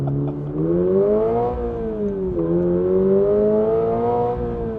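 A 2026 Toyota GR86 Yuzu Edition engine revs up quickly, its close, loud tone rising and falling in smooth sweeps, climbing twice toward high revs and easing back.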